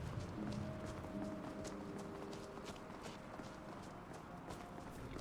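Horse hooves clip-clopping in the Skyrim video game, a busy, steady run of hoofbeats under continuous game ambience and music, fairly loud throughout.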